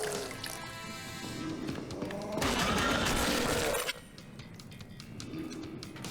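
Explosive barrels shot in the House of the Dead Remake video game on Nintendo Switch: gunfire and a loud burst of shattering, crashing debris that fills a few seconds, then drops away.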